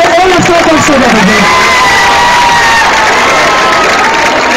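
A large concert audience roars with cheering, whoops and applause, loud and continuous throughout.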